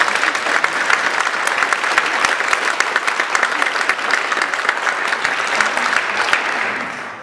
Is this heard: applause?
yes